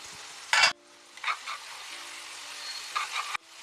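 Korameenu fish egg curry with green chillies bubbles and sizzles in a pan, a soft steady simmer broken by a few louder stirring scrapes.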